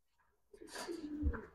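A high-flying Budapest pigeon gives a short, soft coo, close and faint, with nothing else around it.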